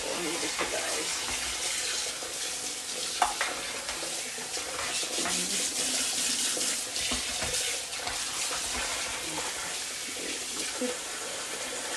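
Hands washing something under a cold running tap in a double kitchen sink, a steady stream of water with soft splashing and stirring throughout, close and moderately loud, with no talk.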